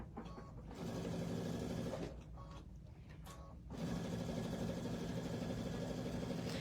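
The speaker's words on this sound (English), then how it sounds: "we're gonna sew and then reinforce, and we're just gonna sew all the way down" A sewing machine runs in steady bursts while stitching down a trick-or-treat bag seam, humming close and continuous, pausing briefly before starting again.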